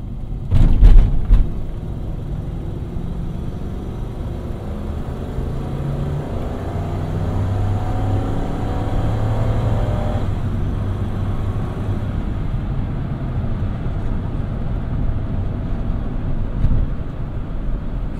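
A 2000 Toyota Tundra SR5 V8 pickup engine rumbles steadily, with a low revving drone that rises as it accelerates, continuing for a long stretch with no talking.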